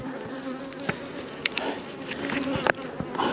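Bees buzz steadily around an opened hive, a dense droning swarm close to the microphone while the beekeeper lifts off a board, with faint handling clicks and bumps mixed in.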